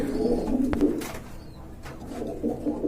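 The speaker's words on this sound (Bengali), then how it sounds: "এখানে দেখতে পাচ্ছেন কবুতর আছে 2টা ভাই" Pigeons at a Bangladeshi pigeon seller's coo in low, soft, repeated throaty calls close by, with a few faint clicks and some background noise.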